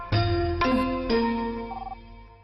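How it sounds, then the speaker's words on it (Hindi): A telephone ringing indoors, three clear electronic chime tones in quick succession, each decaying slowly, loud and close with no talking. "हेलो, हाँ देती हूँ, तुम्हारे लिए फोन है।"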